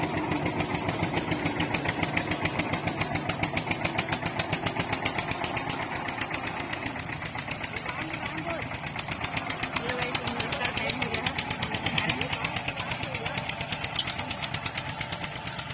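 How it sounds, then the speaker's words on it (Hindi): A tractor engine chugs steadily throughout in a farm field, its rapid rhythmic throb holding an even, close, fairly loud pace. "उधर ट्रैक्टर चल रहा है"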